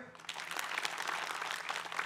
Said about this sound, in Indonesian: Tepuk tangan dulu yuk.